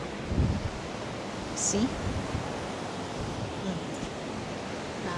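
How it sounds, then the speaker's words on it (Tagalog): Strong wind at a seaside campground at San Elijo roars steadily into the microphone with broadband rumble and gusts, while a person briefly speaks in Tagalog. "Napakalakas ng hangin."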